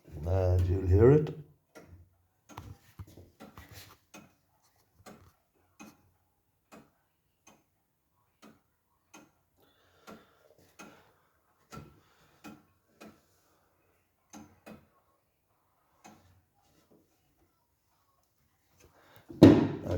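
A mechanical clock, repaired and running again, ticking in a slow, steady, evenly spaced rhythm in a quiet room, with someone talking briefly at the start and again at the very end.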